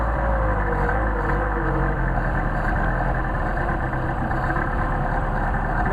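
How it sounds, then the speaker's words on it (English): A cold Mercedes 190SL engine on Solex carburetors idles steadily after starting, a loud, continuous low rumble holding an even pace throughout with no talking. "Now that's the way it should start with a cold engine."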